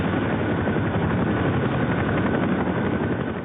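A helicopter flies an offshore airlift of construction workers from the Brae Alpha oil platform in 1983. Its rotor makes a steady, dense drone that fills the whole stretch at an even loudness, with no talking.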